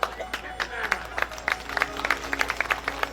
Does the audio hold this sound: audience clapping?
yes